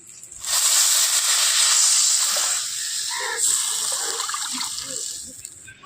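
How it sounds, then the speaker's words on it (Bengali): Water pours into a pan of fried spices for a fish curry, a loud rushing hiss and sizzle that starts abruptly and slowly fades into bubbling. "সমস্ত মশলা খুব সুন্দরভাবে ভেজে নিয়েছি এর মধ্যে এবার দিয়ে দেবো পরিমাণ মতো জল"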